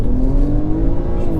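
A BMW 335i with the N54 engine pulls hard on a timed run, its loud engine note rising steadily under full throttle, heard from inside the car with no one talking.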